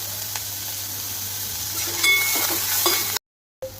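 Finely chopped onion and ginger garlic paste are sautéed in a pan for dodka bharit, giving a soft, steady sizzle with occasional scraping stirs and light clinks close by, then a brief cut to silence.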